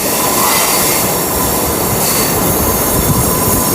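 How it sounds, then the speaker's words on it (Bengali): A local EMU train rounds a curve near a railway workshop and woodland around Howrah, its close, loud rumble carrying steady screeching wheel squeal throughout. "আর দেখুন ট্রেনটা কত সুন্দর টার্ন নিচ্ছে"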